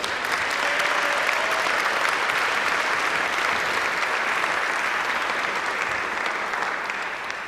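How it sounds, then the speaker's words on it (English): Steady, full audience applause welcoming performers onto a stage at a live-streamed event, continuous and even for about seven seconds before easing slightly at the end. "So, with a round of applause, let's welcome on the stage from Kuldīga, Vanessa and Artūrs."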